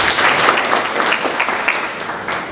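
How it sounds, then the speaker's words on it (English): An audience at an accreditation launch event applauds in a steady, moderately loud wash of clapping for the whole stretch. "Let's give him a clap."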